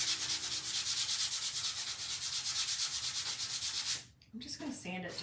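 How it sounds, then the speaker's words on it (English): Sandpaper rubs rhythmically across a wooden pumpkin surface in quick, close back-and-forth strokes for about four seconds, then stops and a few softer scuffs follow. "I'm just going to sand it just a little bit."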